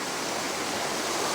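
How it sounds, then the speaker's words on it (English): A waterfall in Japan roars as a steady, loud broadband rush of falling water, constant and close throughout with no voices over it. "There's a waterfall."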